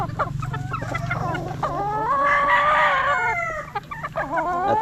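A gamefowl rooster crows loud and close, its long wavering call running over a low steady hum, with clucks and other farm fowl calling around it.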